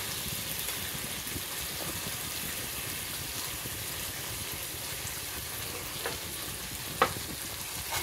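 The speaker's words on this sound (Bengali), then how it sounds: "এবার এই পেস্টটা আমি এতে ঢেলে দেবো" A paste of poppy seed, mustard and coconut being poured into a hot pan and mixed in, with a low steady sizzle and a few sharp clinks of a spoon against the pan near the end.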